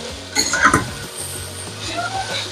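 Steak fried rice with vegetables and meat frying in an Instant Pot after a little extra oil is added, giving a steady close sizzle with a few stirring and utensil clinks near the start.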